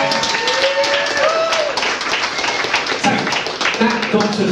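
Audience applause at an app launch party, dense steady clapping from a room of people, with a few voices calling out over it.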